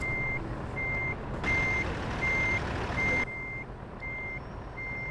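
A truck in the American Truck video game sounds its reversing alarm, a steady series of evenly spaced high beeps over a constant low engine idle, with a brief louder surge of engine noise midway.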